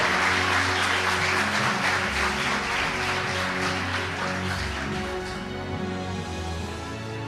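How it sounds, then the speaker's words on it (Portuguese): Church congregation clapping to welcome Pastor João, with sustained applause mixed under steady music or organ tones, gradually quieting as the held notes carry on. "Vamos dar um aplauso, receber o pastor João aqui."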